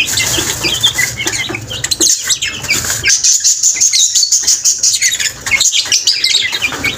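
Hens and chicks flap and shuffle close by, with a busy mix of wing beats, scratching and high chirping peeping throughout.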